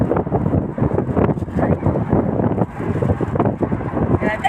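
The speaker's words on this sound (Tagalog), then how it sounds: "Uy, ang hangin guys." Strong wind buffets the microphone during a car ride near Times Square in Dubai, a loud, continuous rumbling roar that rises and falls in gusts throughout.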